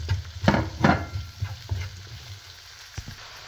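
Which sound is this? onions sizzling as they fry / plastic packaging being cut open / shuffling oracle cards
onions sizzling as they fry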